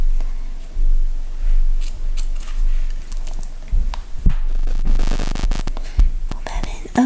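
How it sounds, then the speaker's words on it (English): Scissors snip off a loose end of crochet yarn, with a few soft close cuts and crisp clicks among quiet handling rustles and faint breathy sounds. "Let me snip off this little end too."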